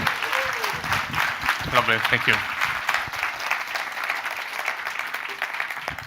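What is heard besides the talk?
audience applause welcoming a performer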